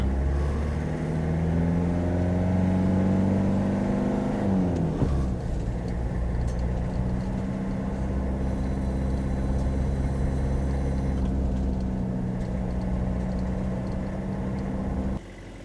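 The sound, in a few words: 1992 Toyota Hiace Tomboy camper driving and idling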